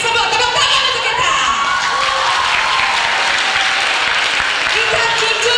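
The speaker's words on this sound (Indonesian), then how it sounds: "Tepuk tangan untuk kita." A crowd at a children's jamboree session claps loudly and continuously, with cheering and shouting mixed into the steady applause.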